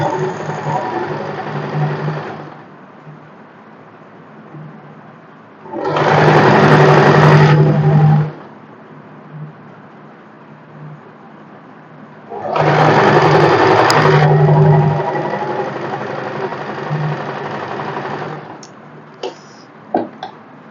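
A sewing machine stitches an Afghani salwar in two loud bursts of rapid whirring. Quieter handling and rustling of the fabric fill the pauses between the runs.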